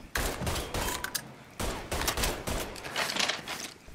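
Gunfire in the Mafia 3 video game, a rapid fusillade of overlapping gunshots in quick bursts, fairly distant and moderately loud, continuing throughout with brief gaps.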